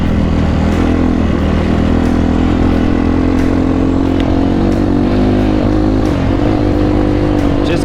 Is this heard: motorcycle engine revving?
yes